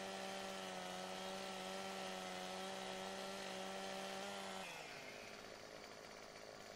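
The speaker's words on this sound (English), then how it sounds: "this Stihl chainsaw is really doing a nice job cutting right through this" A Stihl chainsaw in the video game Farming Simulator 17 cuts through a tree with a loud, steady, buzzing whine that drops into a rougher, quieter tone near the end.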